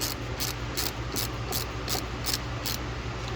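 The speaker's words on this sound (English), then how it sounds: "Then we'll finish tying it down with a ratchet." A ratchet tightening the battery clamp on a 2013 Toyota Tundra, a rhythmic run of about nine crisp clicks at steady pace over a low engine-bay hum.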